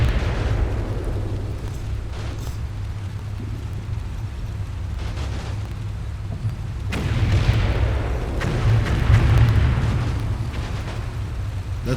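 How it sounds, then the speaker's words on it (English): Tiger tanks firing in Combat Mission Red Thunder, a WWII battle game: heavy low booms and rumbling blasts roll on continuously, swelling louder toward the end, with no talk. "Tigers are pounding away."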